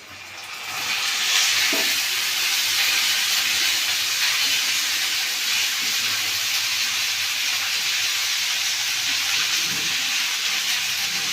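Ash gourd dropped into a hot pan with ginger paste, a loud continuous hissing sizzle that swells up after the first second and holds steady to the end, with no talking.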